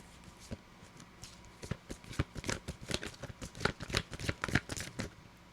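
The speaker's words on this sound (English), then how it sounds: "let me just try to shuffle them again" Tarot cards are shuffled by hand in a quick series of crisp riffling snaps and flutters, close and clear, growing busier toward the end with no talking.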